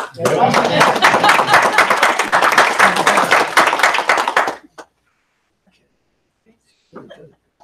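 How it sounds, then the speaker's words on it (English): Applause from a small group at a board meeting, dense overlapping hand claps lasting about four and a half seconds before stopping abruptly, followed by quiet room sounds and a brief murmur. "We should clap for that."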